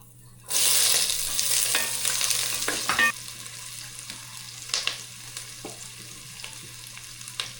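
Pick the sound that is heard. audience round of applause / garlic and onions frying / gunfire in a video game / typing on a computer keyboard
garlic and onions frying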